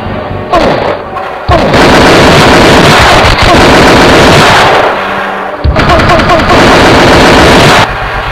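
Heavy gunfire in Project Fateh, a 3D first-person shooter set during the 26/11 Mumbai terror attacks, with loud automatic bursts and booming blasts that stop briefly and then resume throughout.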